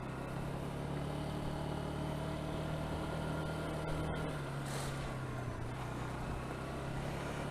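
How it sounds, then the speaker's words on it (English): A motorbike out on countryside byways in Curridge, Newbury, shifting down into second gear. A steady, close engine drone drops in pitch partway through, with a brief whoosh of air and no talking. "Get a downward gear into second."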